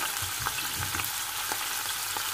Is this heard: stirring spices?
yes